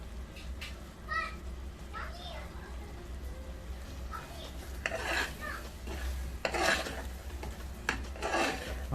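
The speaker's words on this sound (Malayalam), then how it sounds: "നന്നായി ഒന്ന് ഇളക്കി കൊടുക്കാം." A spoon scrapes and clinks against a cooking pan while stirring Kerala-style beef masala, in irregular taps and rustles over a low background hum, with faint voices in the room.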